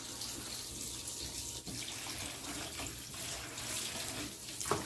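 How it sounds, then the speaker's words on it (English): Cold water runs from a kitchen tap into a sink for meat rinsing, a steady close rushing splash that continues throughout with no talking. "Now, I'm gonna turn the cold water on"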